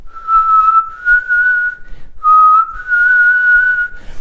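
A person whistles alone, shifting between notes by moving the back and sides of the tongue, with two sustained phrases split by a short pause, clear and close.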